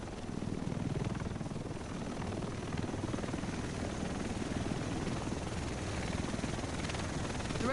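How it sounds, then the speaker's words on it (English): Helicopter in the video game The Division, set in Manhattan, arriving with a steady, loud rotor roar that holds throughout with no talk over it. "The rest of us should be in this chopper."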